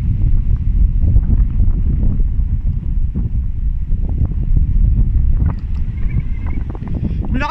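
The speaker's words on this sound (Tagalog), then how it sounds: "lakas ng hangin." Strong wind blows over a frozen lake, a loud, gusty low-frequency roar buffeting the microphone continuously, with faint higher sounds near the end.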